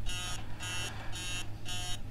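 An alarm rings in the horror video game Emily Wants To Play 2: four rapid, shrill electronic beep bursts repeat at an even pace over a quiet background hum.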